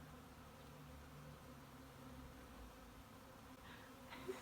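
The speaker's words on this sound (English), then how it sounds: "It's like warm and moving, and I know it's bees, but they're not stinging me." A swarm of bees buzzing on bare hands outdoors, a faint, continuous dense hum of many insects close by, with no talking.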